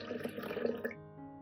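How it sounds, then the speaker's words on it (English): Water splashes and trickles into a cooking pot in a short, close, quiet pour that ends in a faint ringing. "Add water to the pot."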